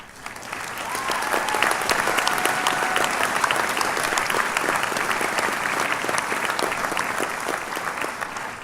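Sustained audience applause at a community college commencement ceremony, steady and dense clapping from a large crowd that holds at an even level throughout without fading.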